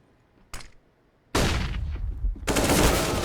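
Gunfire rings out on the Vertigo map of the video game Counter-Strike: a single sharp shot, then a dense burst of rapid fire that cuts out, followed by another loud volley.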